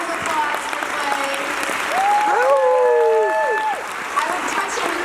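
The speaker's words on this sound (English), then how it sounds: "Huge round of applause for Clay." A keynote audience gives a loud, sustained round of applause, steady clapping throughout with a voice briefly speaking over it and whoops rising in the middle.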